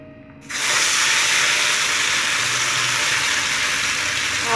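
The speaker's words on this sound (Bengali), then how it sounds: "তেল গরম হয়ে গেছে। আমি এবার এটা ছেড়ে দিচ্ছি।" Spice paste dropped into hot oil bursts into a loud, sudden hiss that holds steady and strong as a dense sizzle close by, with no voices.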